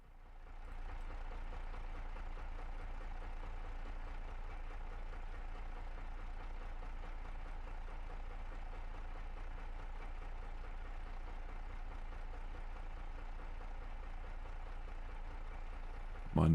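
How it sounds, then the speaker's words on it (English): A tractor engine in a farming video game runs at a steady idle, a faint, low, even rumble that holds constant throughout with no talk. "I can hear my tractor, I think."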